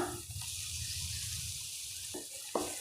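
Onions, green chillies and tomatoes sautéing in a pan for a Tamil turkey berry dal kootu give a steady low sizzle and frying hiss throughout, with a couple of brief scraping stirs near the end.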